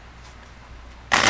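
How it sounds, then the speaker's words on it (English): Tarot cards riffle together in a short, sharp burst of crisp flutter, close and loud after a near-silent moment. "She's telling me to shuffle again."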